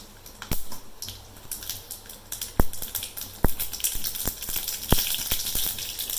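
Mustard seeds crackling in hot oil in a pan, a close run of sharp irregular pops and snaps over a sizzling hiss that thickens as the popping picks up.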